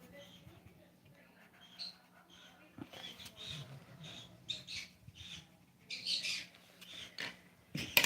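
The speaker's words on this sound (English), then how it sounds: "My birds are talking to me." Pet birds chirp and squawk indoors, with short bright calls and scratchy squeaks scattered throughout, growing busier and louder toward the end while someone talks quietly nearby.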